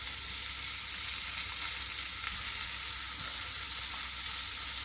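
Salmon fries skin side down in a pan with a little butter, giving a steady close sizzle with no voices.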